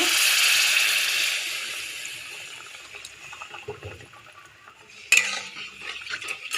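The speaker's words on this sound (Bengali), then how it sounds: "এবারে আমি জল দেবো" Water goes into a hot pan for Bhola fish curry, beginning as a loud rushing hiss that eases into a quieter bubbling simmer, with a sharp clink of a utensil near the end and no talk.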